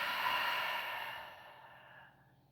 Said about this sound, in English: Try to breathe deeply, breathe all the way out.